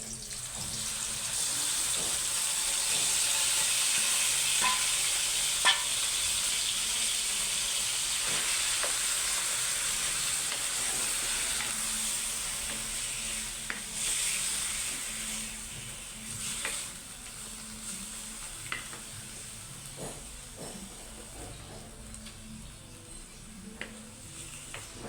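Chicken breast fries in a pan with a continuous bright sizzle that is loud at first and gradually eases, with occasional clinks and scrapes of stirring.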